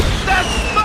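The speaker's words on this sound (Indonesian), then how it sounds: "datanglah pesawat yang masih bagian dari proses syuting yang seolah-olah mengebom lokasi tersebut" A staged explosion on a movie set, meant to look like a plane bombing the location, rumbles as a loud, continuous low boom with rolling debris noise and a faint whistling tone drifting above it.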